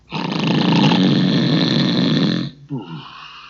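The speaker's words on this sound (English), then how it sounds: "he began to snore so loudly that it sounded like thunder." A single long, loud, rumbling snore close up, followed by a shorter, softer snorting breath.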